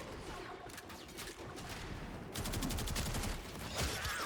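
Gunfire from a Warframe quest as headshots land, a steady dense run of rapid shots that grows louder and sharper partway through, with no talking.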